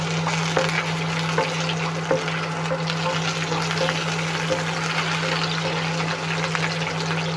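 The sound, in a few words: coconut pieces frying in a pan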